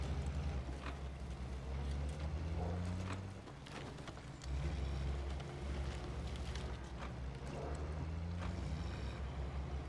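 Engine of a 1983 Ford Ranger off-roading in SnowRunner: a steady low, throaty drone that dips briefly in the middle and then returns, with faint rattles above it.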